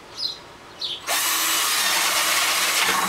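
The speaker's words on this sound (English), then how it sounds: "We're going to do one more set of drilling" A couple of faint scrapes, then a power drill kicks in and whines steadily at high speed, grinding continuously through a plastic bucket until the end.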